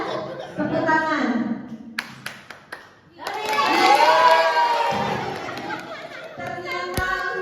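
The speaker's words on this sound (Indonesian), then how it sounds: "Tepuk tangan." An audience at a teachers' sharing session breaks into clapping and cheering, a swell of applause and shouts that rises after a speaker's voice and then fades under further talk.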